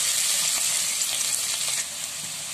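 Finely chopped onions, a whole kilogram, fry in hot oil in a pan with a dense, close sizzle. The sizzle eases slightly near the end.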